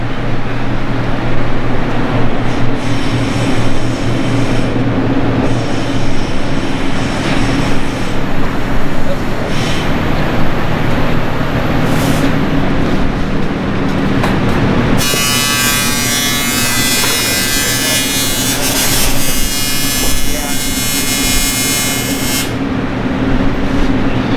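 A twin-turbo Corvette C5 engine runs loud and steady, with people talking over it, before a sharp change partway through brings a harsher, brighter roar that holds for several seconds and then eases off.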